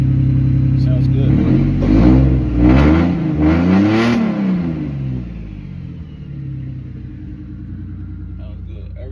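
A Lexus IS300 fitted with a naturally aspirated 2JZ engine revs on its first start, a loud close rumbling idle climbing into a rising rev and then falling back to a steady idle, with a voice heard briefly over it.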